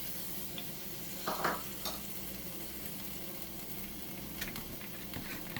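Frozen onion sizzling and being stirred in a hot pan for a lasagne-style baked bean casserole, a steady low frying hiss with a few scraping stirs, fairly quiet and close.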